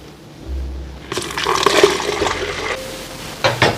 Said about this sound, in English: Pour out the juice.